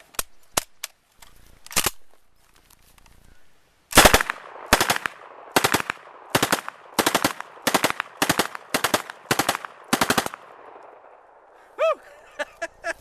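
An Uzi submachine gun, fitted with a spacer to raise its rate of fire, rips off roughly a dozen loud, sharp bursts in quick regular succession after a few scattered earlier shots, very close and without speech.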